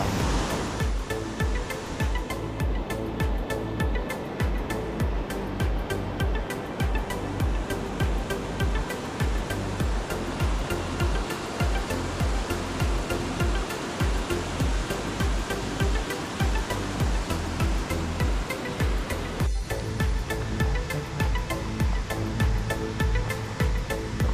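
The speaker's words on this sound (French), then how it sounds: "Et ce torrent, c'est le torrent d'Urine." Clear water rushes steadily down a mountain torrent, a dense continuous roar close to the microphone with no pauses.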